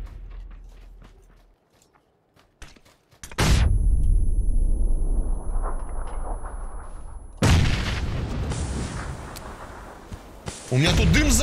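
A loud, sustained explosion roar in the battle game PUBG follows quiet rustling, then swells again with a second heavy burst and a rumbling tail, close and dominant over everything else.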